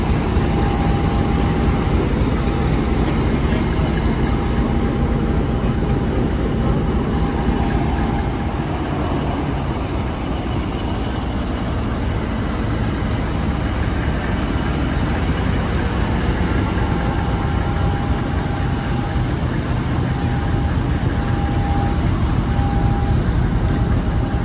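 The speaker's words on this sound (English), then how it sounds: "As you can see, the Thunder is a very popular train." A Class 20 style diesel locomotive nicknamed Thunder works on a heritage railway during a diesel gala, its engine a loud, steady rumbling drone with a faint whistle-like tone drifting in and out, no voices.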